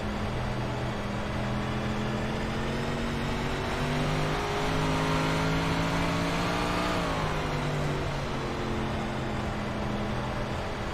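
Onboard race car engine during a lap in a slick-tire car, a loud steady drone with harmonic pitch climbing and dropping as the driver works the throttle, briefly lifting near the middle before pulling again, with no talk.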